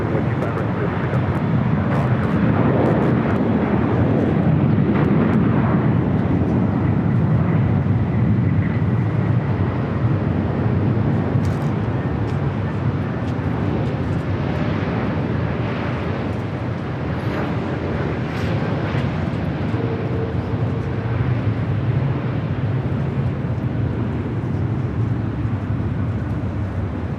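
A jet airplane rumbles on runway 25 right at LAX, a loud, continuous broadband roar of engines that holds steady throughout, with faint radio voices in the background.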